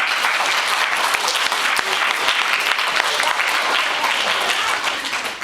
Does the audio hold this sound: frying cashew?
no